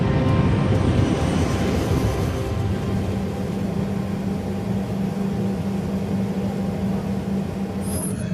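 A BAC 111 airliner, a pressurized jet carrying 81 passengers and 6 crew, climbing toward 23,000 feet, heard as a steady, continuous cabin engine drone with low rumble and no talk.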